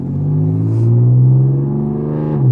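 A supercharged 463 HP Audi A5 Sportback with a loud straight-piped exhaust accelerates, its deep droning engine note swelling and climbing in pitch from inside the cabin.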